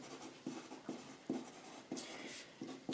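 A pen scratching across paper while washing instructions are written on a fabric swatch card, with soft, close, irregular strokes in short bursts and quiet pauses between them.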